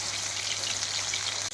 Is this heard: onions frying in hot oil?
yes